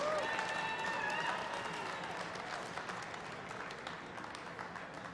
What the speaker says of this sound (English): Let's give a huge round of applause for our category sponsors.